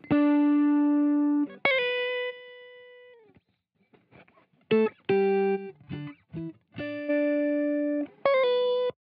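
Electric guitar, a Stratocaster-style tone, played through a Tube Screamer boost pedal in Guitar Rig software, ringing out sustained notes and short chord stabs with slight grit, loud and alone, with brief gaps between phrases.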